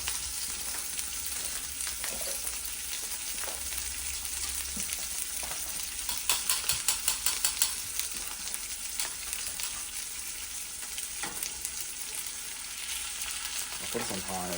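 A small piece of invasive-species meat fries in a pan with a steady, close sizzle and crackle throughout, a few brief spatters and stirring clicks breaking the hiss, with no talking.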